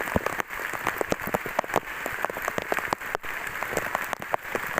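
Steady rain patters densely onto a forest trail on Bukit Daun, a 2,467 m mountain. The close, unbroken hiss is speckled with sharp drops.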